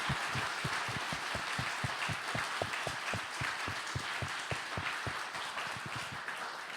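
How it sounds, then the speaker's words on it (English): An audience at a prize ceremony claps steadily for several seconds, a dense run of sharp hand claps that stays even in loudness with no voices over it. "Can you please also clap hands for her?"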